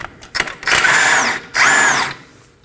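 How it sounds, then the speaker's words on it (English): Power tool with a 17mm socket spinning off a stabilizer end link nut on a 2020 or later Toyota Corolla strut, two close loud whirring bursts with a short pause between, after a few brief clicks. "We're going to remove this nut using a 17mm socket."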